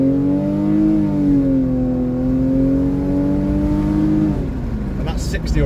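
A Lexus car's engine accelerates along a 60 mph road, a loud steady drone rising in pitch for about four seconds before easing off, with brief rustling noise near the end.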